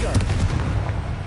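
Confringo fire spell blasting in Hogwarts Legacy on PS5, a loud rumbling burst of explosive bangs with dense low-end crackle across the short moment, game sound effects alone without talk.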